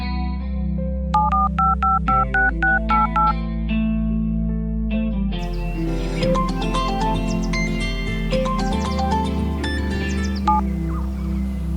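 Phone keypad tones dialing a call, a quick series of about eight short beeps over a steady background music bed, then ringback-like tones as the music swells.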